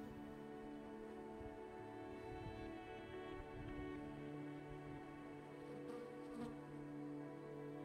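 Honeybees in an open hive just after a puff of smoke, a steady low droning hum of many wings, fairly quiet and continuous with no talking.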